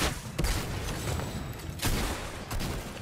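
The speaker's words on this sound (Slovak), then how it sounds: "ďalší typek po nás strieľa ešte raz" Rapid bursts of gunfire in the video game Fortnite, several loud volleys crackling close by with short gaps between them, with no talk over the shots.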